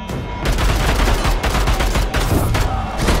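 Rapid gunfire rattles out of the video game Bunker Punks in fast bursts of sharp shots, with short gaps between volleys, loud and close, as a player runs through a fight.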